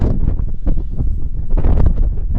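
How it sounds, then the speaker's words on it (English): Strong wind on the Clwydian Range in North Wales buffets the microphone in a low, rumbling roar that gusts continuously and loudly throughout. "It's windy as well."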